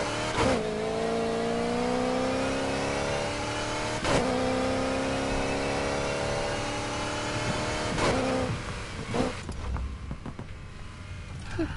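Car engine fitted with a screw supercharger in the racing game Need for Speed Heat, revving repeatedly with sharp rising sweeps at regular intervals and a steady droning tone between them, ending in rougher, uneven engine noise.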